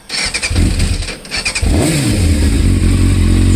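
A Yamaha Thundercat 600R sport motorcycle engine, just returned to running after a no-start fault, blips through several quick close revs and then settles into a loud, steady rumbling idle.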